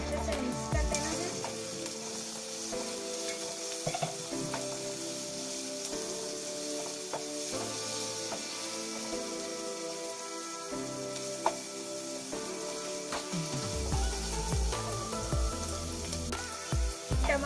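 Chopped tomatoes and carrots sizzle in a pan for masala Maggi noodles, stirred with intermittent scrapes and clinks over a steady low frying hiss and a faint background hum.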